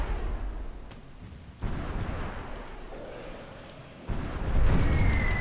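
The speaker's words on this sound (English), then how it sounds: "Very good bombing run." Bombs from an air raid in the Cold War strategy game Supreme Ruler Ultimate land as heavy, rumbling blasts, with two sudden louder bursts swelling over a continuous low roar.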